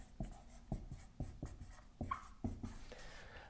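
Marker or chalk scratching out words on a board in a quiet room, a run of short, distinct strokes with small pauses between letters, close and fairly faint.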